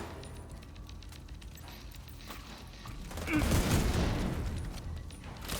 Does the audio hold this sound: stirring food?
no